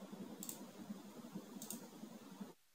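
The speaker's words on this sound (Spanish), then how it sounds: "Van a seguir dando clic hasta que la descarga se lleve a cabo." Quiet, rapid, even computer mouse clicking, fairly close, runs for about two and a half seconds and then stops abruptly.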